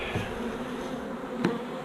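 Honey bees buzzing around comb honey frames at an open hive, a steady close drone of many insects with one louder bee passing near the end.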